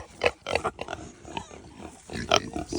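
A Kunekune pig grunts close by in a string of short, uneven nasal grunts and snorts, some louder bursts among softer ones, with no talk over them.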